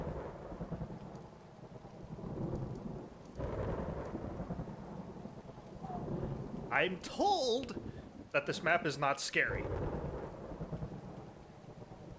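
Thunderstorm in a dark Lovecraftian Minecraft adventure map, with steady heavy rain and deep rolling thunder surging in waves. Someone talks over it partway through.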